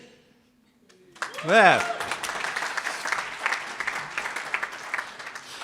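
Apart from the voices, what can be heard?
staff and players cheering and applauding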